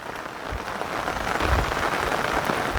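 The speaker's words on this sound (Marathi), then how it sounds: "कोकणात पाऊस सध्या जोरात पडतो आहे" Heavy monsoon rain pours down in the Konkan, a dense, steady hiss of drops drumming on surfaces close by, constant throughout with no voices.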